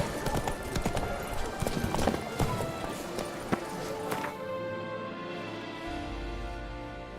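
Roach the horse gallops in The Witcher 3, a steady rhythm of clip-clop hoofbeats with a brief whinny, loud and close, then giving way to a low rumbling ambience.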